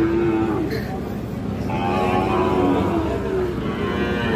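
A young Sahiwal bull calf lows at a busy cattle market, a sustained tonal moo over constant crowd chatter and background noise, moderately close.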